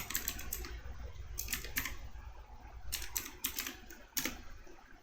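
Rapid keystrokes on a computer keyboard during a CodeIgniter 4.4.5 coding session, coming in quick uneven bursts of clicks over a low steady room hum, close and moderately loud, with no talking.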